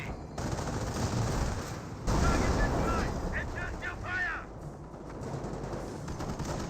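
Machine-gun and rifle fire from a Company of Heroes 1 multiplayer battle, bursts of automatic gunfire in a dense rattling barrage with a few whistling tones over it, fairly loud and continuous.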